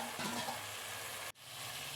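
Minced mutton sautés in oil with tomato and turmeric, giving a faint, steady sizzle with a brief dropout near the end.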